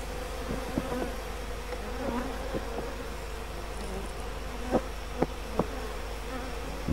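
Bees buzz steadily around honey-filled hive bodies from Ruta hives set on a bee-removal stand at an apiary, a dense close hum with a few sharper knocks and clicks near the end.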